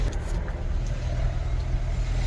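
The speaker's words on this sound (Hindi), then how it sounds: "हम बैठ गए हैं गाड़ी पे और हम चलते हैं घर" Steady low rumble of a car moving along a road, heard from inside as a passenger rides home from a fair, continuous and even with no talk.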